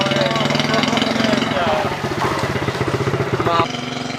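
A motorcycle engine runs steadily close by throughout, a continuous mid-pitched drone with a brief louder surge near the end, while people talk over it.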